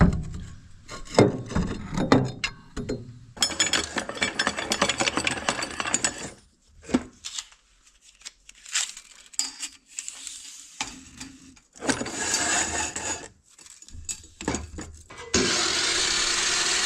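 Wood being cut for a cabin roof repair, bursts of harsh sawing and rasping noise separated by pauses, close and loud, ending in a sustained hiss.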